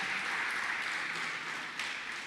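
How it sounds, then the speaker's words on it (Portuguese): A church congregation applauds to celebrate during a sermon, a faint, even wash of clapping heard from a distance that continues steadily without a clear start or end. "Dá um aplauso aí para celebrar."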